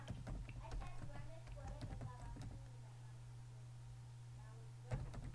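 Computer keyboard typing on a Windows 10 PC: a quick cluster of sharp key taps, then a pause, then a couple more clicks near the end over a low steady hum.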